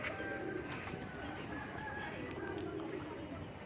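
Pet pigeons coo softly among other birds, low murmuring calls repeating under a faint, steady outdoor hum, with no voices.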